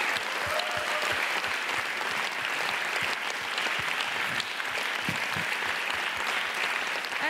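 A theatre audience at a closing ceremony in Berlin gives sustained, energetic applause with distinct individual claps, constant and fairly loud, with a faint whistle or cheer early on.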